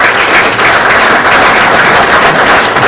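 A conference audience applauds an ambassador at the official launch of an Ivorian diaspora business and investment event, with steady, dense clapping filling the room throughout and no voices over it.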